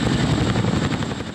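A Chinook military helicopter thunders continuously, its deep rotor thump and engine roar loud and close with a slight fade at the end.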